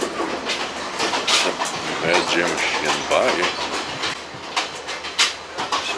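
Riding inside a passenger train in Sri Lanka, with loud rhythmic clickety-clack of wheels over rail joints and a rumbling carriage throughout, while someone talks over it.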